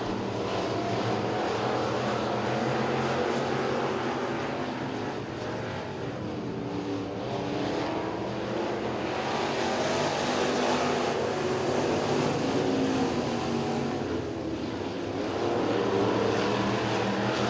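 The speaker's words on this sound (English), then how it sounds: "The F65 car now challenging Dustin Reel for the lead" Factory stock dirt track race cars roaring through a heat race at Duck River Raceway, a continuous loud engine drone that swells and fades as the pack passes, with no talk.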